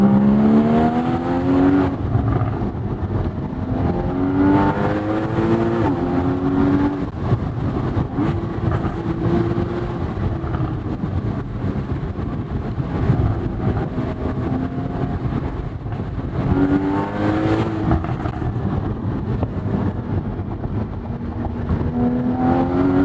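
Porsche Boxster GTS engine pulling under acceleration while driving, with repeated rising revs through the gears, loud, close, steady mechanical drone and no talk.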